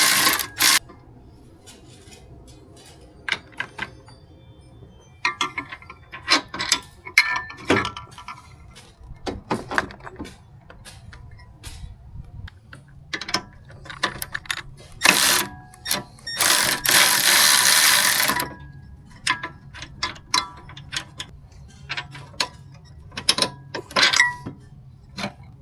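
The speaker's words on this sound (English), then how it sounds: "a 13mm socket and a 13mm box wrench was all it took to pull these" Ratcheting and clicking of a 13mm socket wrench and box wrench loosening metric bolts to remove off-road lights from a Jeep, a run of short mechanical clicks and turns at close range with a longer burst of ratcheting midway.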